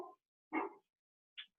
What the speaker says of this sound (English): just a dog that just doesn't want to stop barking